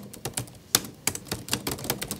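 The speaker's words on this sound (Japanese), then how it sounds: "タイピングがうるさい人。" Loud, clacky typing on an office computer keyboard, a quick uneven run of sharp close keystrokes with a few harder hits, heard alone without talk.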